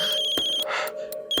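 Phone ringing with a steady high electronic trill, cut by short breaks and a brief noisy burst, sounding close and fairly loud.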